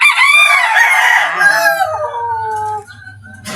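A mixed-breed gamefowl rooster crows once, close and loud, its long call falling away toward the end over a low background hum.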